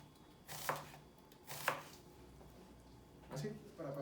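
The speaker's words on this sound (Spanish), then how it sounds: "el corte pluma, emince o como lo habíamos hecho ya, el corte juliano, que consiste en cortar al sentido de las líneas de la cebolla" Knife slicing an onion lengthwise into thin julienne strips on a cutting board, a few distinct close cuts spaced about a second apart, with a faint voice in the background.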